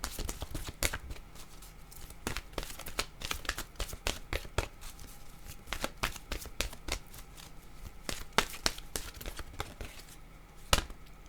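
Oracle deck cards handled and shuffled up close, a rapid run of crisp papery flicks and snaps continuing throughout with no talking.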